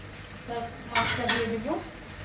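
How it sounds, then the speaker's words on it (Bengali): Spice masala being fried and stirred in a pan, a soft sizzle under brief scraping strokes of a spoon against the metal, with a short burst of louder stirring midway, close by. "মশলাটা ভালো করে কষিয়ে নি"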